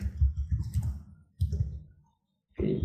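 Fingers type on a computer keyboard in quick, close clicking bursts separated by brief pauses, with one clear gap of near silence before a last flurry of keystrokes.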